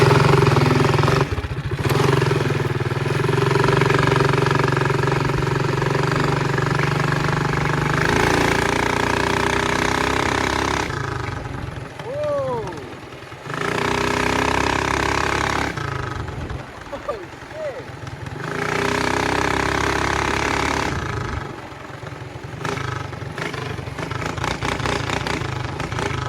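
A Mega Moto 212 minibike engine fitted with an RLV 1-inch trumpet exhaust tip runs close by, its buzzing drone rising and falling as it revs, with people talking over it at times.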